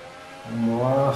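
Formula 1 car engine rising as it accelerates in the F1 2018 racing game at the rainy Austrian Grand Prix, Spielberg; a low drone swells into a louder, climbing engine note after a quiet start.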